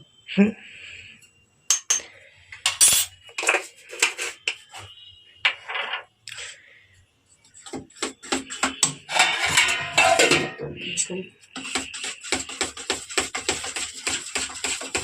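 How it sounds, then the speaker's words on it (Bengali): Spoon clinking and scraping against a bowl while mixing malpua batter of bread with fennel seeds and a little baking soda, in quick irregular bursts at first, then busier continuous stirring clatter, close and moderately loud. "ভালো করে সবগুলোকে একসঙ্গে মিশিয়ে নিতে হবে।"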